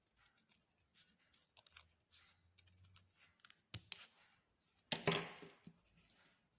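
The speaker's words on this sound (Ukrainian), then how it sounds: "тепер можемо її вирізати" Scissors snip through a paper petal shape during a children's appliqué craft, giving a few quiet crisp cuts followed by a louder, sharper burst of cutting near the end, close and with no talking.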